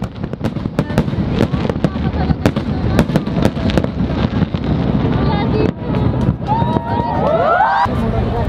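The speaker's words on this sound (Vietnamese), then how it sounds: "Còn 30 phút nữa mới tới giao thừa mà Singapore bắn pháo hoa rồi các bạn." Fireworks going off near the Merlion fountain in Singapore about half an hour before the New Year 2024 countdown: a rapid run of sharp bangs and crackles over a busy crowd murmur. Whistling launches rise near the end.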